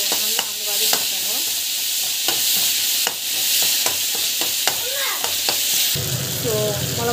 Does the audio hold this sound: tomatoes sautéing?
yes